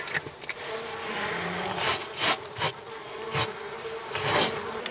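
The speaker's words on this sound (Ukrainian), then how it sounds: "А це ще сидять бджоли, які я зараз трушу у вулик." Honeybees buzz in a steady, dense swarm drone, with louder surges and rustling bursts as they're shaken from a log hive into a new hive, close to the ear.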